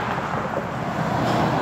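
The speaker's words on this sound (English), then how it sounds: "There's a lot of traffic." Steady traffic on a city street heard while walking, a continuous broadband roar of passing vehicles with some wind buffeting on the microphone and no other clear sounds.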